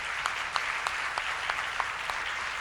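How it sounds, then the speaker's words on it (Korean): A church congregation claps together in a worship service, a sustained wash of applause with a few sharper individual claps standing out at a steady rhythm. "빨리 박수로 하나님께 영광 돌려서"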